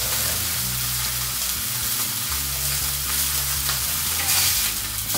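Burgers frying in a hot pan give a steady, loud, close sizzle that runs unbroken for the whole stretch, with a few faint stirring scrapes and no voices.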